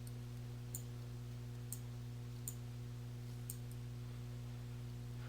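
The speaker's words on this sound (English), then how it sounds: "use your mouse to click and drag to create the additional cell ranges" A computer mouse clicks while cell ranges are selected in an Excel spreadsheet: four faint, sharp clicks spaced about a second apart over a steady low electrical hum.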